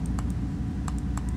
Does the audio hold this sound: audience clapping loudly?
no